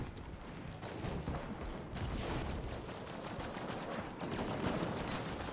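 Rapid gunfire rattles through a Halo 5 video game firefight, with dense overlapping bursts and shots that keep up a busy, continuous barrage for the whole stretch.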